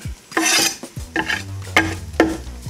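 Kimchi is added to stir-fried rice sizzling in a pan, bringing a few bursts of loud frying hiss and scraping strokes of a utensil against the pan, close up with short pauses between them.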